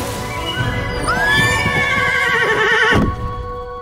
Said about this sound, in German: bevor die Wölfe Barbie näher kommen können, erscheint das weiße Pferd und schlägt die Wölfe in die Flucht